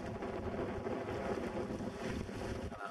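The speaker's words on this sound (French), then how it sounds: "Et le vent n'a pas baissé d'intensité pratiquement depuis qu'on est ici." Strong wind blasting across a lake, a loud, steady roar buffeting the microphone with a rushing, water-like wash throughout, no voices.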